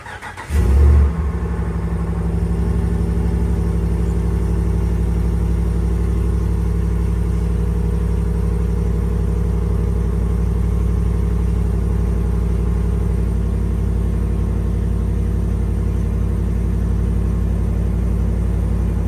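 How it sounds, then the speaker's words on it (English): A stock-exhaust 2019 Ram 1500 cold-starts with a brief loud crank and catch, then settles into a steady, deep idle rumble held close for the rest of the time, with no one speaking. "this is a cold start on the stock 2019 Ram 1500 exhaust"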